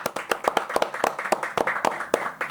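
Hands clap in a steady series of distinct close claps, about a dozen evenly paced strikes, moderately loud with no talking over them.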